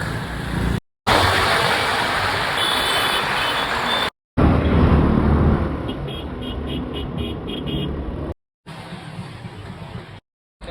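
Busy road traffic with cars and trucks passing, a steady broadband rumble broken by brief cuts, with faint high reversing-style beeps in places and no talk.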